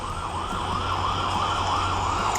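A police car siren in a racing video game on a Samsung A30 phone wails in a steady rising and falling cycle over a constant engine and road drone, with no talking.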